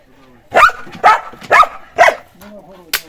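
A dog barks four times in a steady series at close range, each bark loud and sharp, followed by a short yip at the end.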